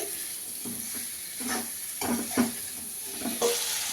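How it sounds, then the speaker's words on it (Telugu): Chicken biryani masala with curry leaves and coriander roasts in a pan while a spoon stirs it, making a soft continuous sizzle broken by repeated scraping strokes at an irregular rhythm. "దీన్ని అయితే ఇలా బాగా రోస్ట్ అయ్యే వరకు కలుపుతూనే ఉండాలి లేకపోతే మాడిపోతుంది"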